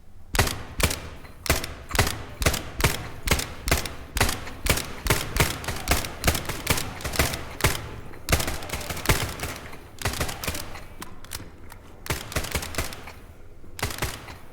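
Rapid bursts of automatic gunfire crackle loudly and almost without pause in the SCP 5K shooter game, sharp repeated shots packed into steady rhythmic volleys that thin out briefly near the end.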